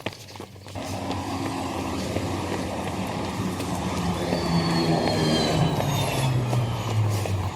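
The number 25 city bus on the Monroe route rumbles past on a street, a steady loud engine drone rising slightly as it passes close by, with no talk over it.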